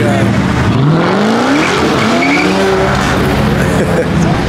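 Several Dodge Mopar cars do burnouts at a car meet, their tires squealing in long rising and falling screeches over loud, continuous engine roar. Crowd voices can be heard throughout.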